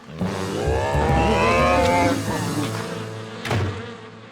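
Loud, dense buzzing of many insects swarming close by, a steady droning hum that swells and holds for several seconds.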